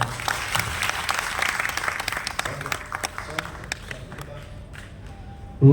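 An audience at a devotional music event in a hall claps together in dense, lively applause that gradually thins out and fades, ending with a near thump and faint sounds.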